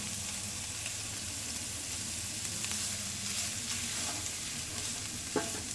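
Chopped capsicum and grated carrot stirred in a hot pan while making veg cheese burger patties, a steady close sizzle with scraping spatula strokes throughout and a couple of sharper clinks near the end.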